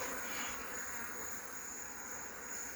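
Bees buzz steadily from a colony during a beehive inspection in Nigeria, a close, continuous hum with a sustained high whine and no talk.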